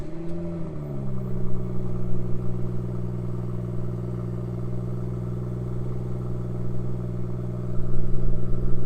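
BMW M140i engine on its stock exhaust settles from a rev into a steady, fairly quiet idle hum, with a slight swell in loudness near the end; no one speaks.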